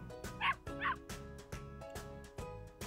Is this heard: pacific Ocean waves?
no